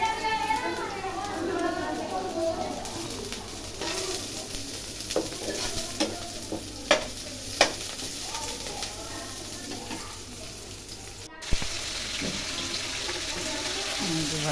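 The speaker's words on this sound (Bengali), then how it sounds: "ভাজি নাড়তেছি" Young pumpkin pieces frying in a pan are stirred now and then, a steady sizzle with scraping clicks and splashy running water nearby, heard under ongoing talk.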